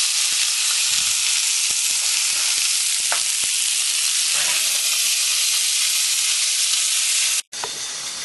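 Pork chops pan-frying on a stovetop over medium-high heat, a loud, dense, steady sizzle with a few sharp spits and crackles, cutting out abruptly for an instant before resuming.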